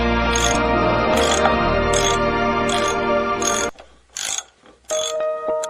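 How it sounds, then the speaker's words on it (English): A ratcheting screwdriver clicks in a fast, steady rhythm while it backs screws out of the ceiling panel of a Jeep Wrangler JK. Beneath it runs a mechanical hum, and it ends in a few stop-start ratchet bursts with no talk. "Remove the screws around the ceiling."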